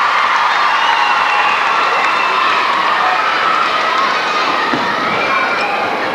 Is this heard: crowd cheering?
yes